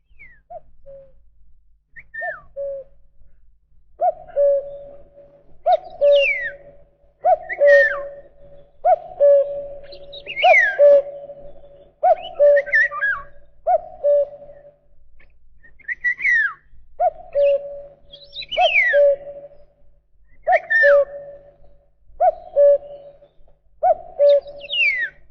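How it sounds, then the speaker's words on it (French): Common cuckoo and golden oriole calling in a spring forest: repeated two-note hoots in a steady series alongside brighter fluting whistles, clear and moderately near with quiet gaps between phrases. "Que serait la forêt sans les voix du coucou et du loriot qui nous annoncent l'arrivée du printemps?"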